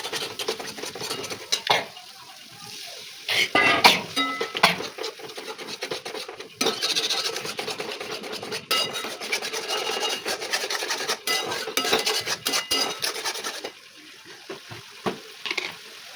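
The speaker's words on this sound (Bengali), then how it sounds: "এখানে টক দই নিয়ে নিয়েছি, আর এখানে একটু সামান্য চিনি আর একটু লবণ দিয়ে এটাকে ভালো করে ফেটে নেব।" Sour yogurt whisked with sugar and salt in a bowl, with a rapid, rasping scrape of the utensil against the bowl that comes in uneven bursts close by, pausing briefly now and then.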